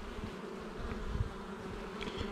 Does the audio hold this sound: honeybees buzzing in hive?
yes